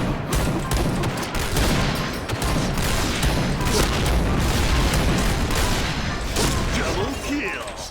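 Dense, booming gunfire from a Point Blank match, with heavy sustained blasts and mechanical clatter filling the whole stretch, loud and continuous, while a player's voice is mixed in underneath.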